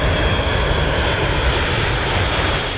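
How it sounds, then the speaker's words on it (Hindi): A US Air Force C-17 Globemaster jet transport roars steadily overhead, a loud, dense engine drone that holds at constant strength with no talk over it. "अमेरिकी वायुसेना का यह विमान रविवार को ताइवान के आसमान के ऊपर था।"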